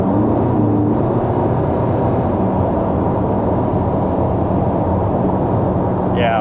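Inside a car cruising at about 80 mph on rough Louisiana highway, a loud, constant roar of tyre and road noise fills the cabin. The rumble stays steady and close throughout.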